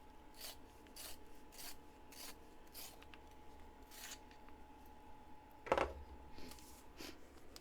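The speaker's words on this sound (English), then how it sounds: "Let's grab the Faber-Castell sharpener." A pencil is turned in a Faber-Castell sharpener while drawing fur, giving a series of soft, faint scraping rasps in an uneven rhythm, with one sharper click partway through.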